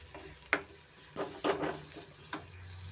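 Onions frying in a pan with ginger-garlic paste and pepper for pepper chicken, with intermittent scraping stirs and a low sizzle close by.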